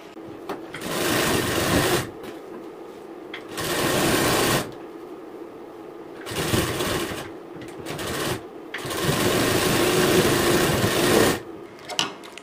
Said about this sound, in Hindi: अब मैं इसकी फिटिंग की सिलाई लगा रही हूँ